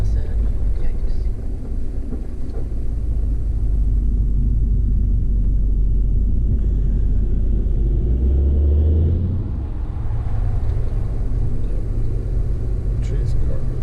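A wide load truck passes on a road, a steady low engine rumble that swells and holds across the stretch, with people talking over it.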